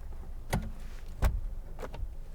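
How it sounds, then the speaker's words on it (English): Electric windows on a 2014 Honda Jazz 1.4 i-VTEC EX hatchback whir briefly in a few short motor bursts inside the quiet cabin, with a faint thump as one stops. "Electric windows all round."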